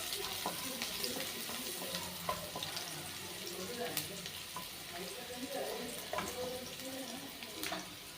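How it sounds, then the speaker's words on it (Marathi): Carrot pieces fry in a pan for Hakka noodles, a soft, steady sizzle broken by scattered clicks and scraping stirs, fairly quiet and without speech. "त्यात आता आपण गाजरचे तुकडे ॲड करून घेऊ तेही मस्त फ्राय करून घेऊयात"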